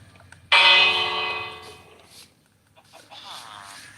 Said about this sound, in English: I just botched every attempt at ringing that bell.